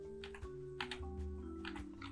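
Computer keyboard keys clack in an uneven run of taps while code is typed, quiet and close, over a steady low hum.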